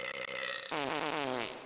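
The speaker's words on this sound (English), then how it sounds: "just like burping" A long, loud burp rolls out after a brief lead-in, its throaty pulsing growl sustained for about a second before cutting off.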